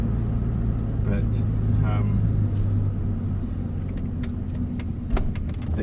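An old Ford Falcon XD with a V8 and a choke fault drives with a steady, low engine rumble and a few light rattles and clicks, while a voice briefly talks over it.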